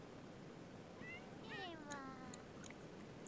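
A cat in The Sims 4 meows while being petted, a few short rising and falling calls in quick succession over a steady background hum of game ambience, with soft clicks toward the end.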